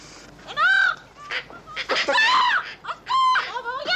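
A talking mynah bird gives several loud, close, warbling whistles and squawky cries in quick bursts with short pauses.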